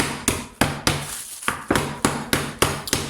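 Frozen strawberries are knocked apart on a cutting board in a series of sharp, hard taps, about ten evenly spaced raps, close and loud with no talk.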